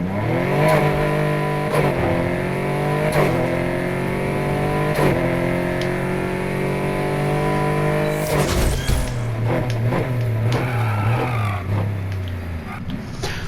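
A Porsche RSR race car engine in the NFS Heat video game revs hard and climbs through repeated rising gear pulls, loud and continuous, with a brief shift break near the end and no talking.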